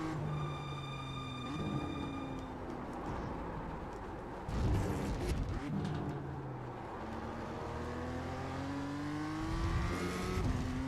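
A BMW M2 race car in iRacing, its engine revving up and down through gear changes with steady, loud rising and falling tones, short tire squeals and a burst of harsher noise midway.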